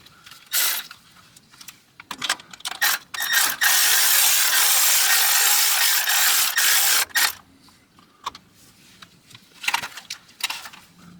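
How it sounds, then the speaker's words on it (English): A torque wrench set to 20 foot-pounds tightens brake bolts during a Wilwood rear disc brake conversion on a 1973 Chevy Impala, giving close, sharp ratcheting clicks in short runs around a longer steady mechanical stretch. "my torque wrench is going to get us at 20 foot-pounds"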